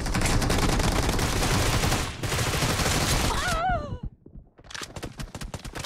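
Dense, rapid video game gunfire from a team deathmatch session, loud and close, breaking off briefly near the end before shots resume.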